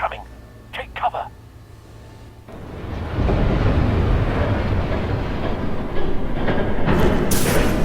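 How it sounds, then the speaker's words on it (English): A passing train in the Batman Telltale Series video game, a low rumble that swells into a steady loud rolling roar after brief sparse sounds at the start. "There's a train coming."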